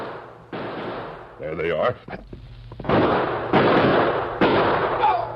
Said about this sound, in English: Shots come from clump of trees to left.